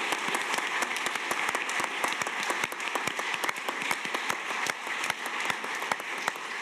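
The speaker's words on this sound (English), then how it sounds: "can we have not only a round of applause for our panel, but also for the translators who have stayed on to help" Steady applause from an event audience at a Terra Madre gathering, honoring a panel and its translators; dense, continuous clapping throughout with crisp individual claps standing out near the front.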